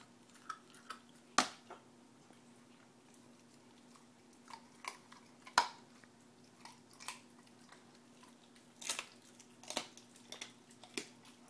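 A Doberman puppy crunches raw chicken bones, sharp irregular cracks and bites scattered over quiet, soft chewing between them, close and fairly faint.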